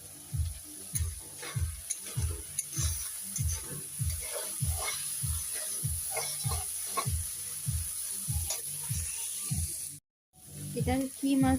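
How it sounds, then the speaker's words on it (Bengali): Small river prawns fry in a home kitchen pan, a constant close sizzle with a steady ticking stir pattern as someone talks over it. The sound cuts out briefly near the end. "আমার মাছ ভাজা হচ্ছে, এই দেখো এরকম মাছ ভাজা কেমন চলছে"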